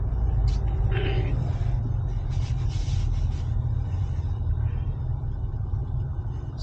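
Inside a car moving slowly through a traffic jam, a steady low engine and road rumble hums loudly throughout, with a few faint higher clicks and hisses from surrounding traffic.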